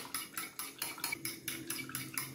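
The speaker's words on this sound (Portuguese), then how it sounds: "Bater esses ovos aqui rapidinho." Eggs beaten fast with a utensil against a bowl for a skillet corn bread, about ten quick, evenly spaced clinking strokes, close and moderately loud with no talking.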